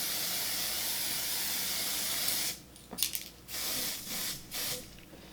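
Several short bursts of a fine spray hiss in close succession, each a quick puff of mist against a quiet background hiss, from an airbrush mist spray foundation.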